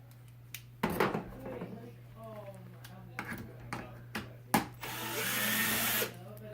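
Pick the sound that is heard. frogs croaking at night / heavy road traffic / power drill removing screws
power drill removing screws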